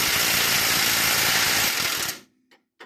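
A power ratchet spins on a steering coupler during a rag joint replacement, a loud, close, continuous whirring burst of about two seconds that cuts off, followed by a couple of faint knocks.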